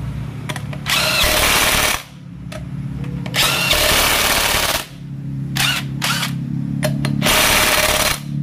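Air impact wrench tightening wheel nuts on a Mitsubishi Canter HDL truck, loud close bursts of hammering rattle, each lasting about a second or two, separated by short gaps and quick taps.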